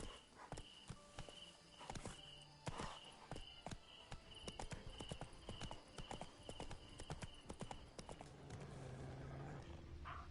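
Horse hooves clip-clopping in The Witcher 3: Wild Hunt on PS5, a steady run of sharp, close hoof strikes at a walking pace, with game ambience and music beneath and a faint voice.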